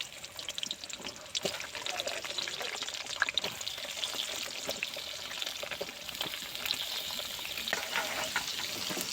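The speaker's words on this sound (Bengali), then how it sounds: "প্রথমেই আমি আলু ভেজে নেব।" Potatoes fry in well-heated oil for a mixed vegetable dish, a quieter crackling sizzle with frequent sharp pops and spatters spread across the whole stretch, nearby with no talking.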